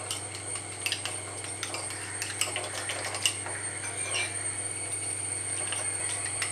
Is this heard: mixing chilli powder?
yes